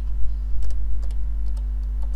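Soft keystrokes as text is typed on a computer keyboard while setting up an OpenOffice presentation, a few scattered clicks in small bursts over a steady low electrical hum.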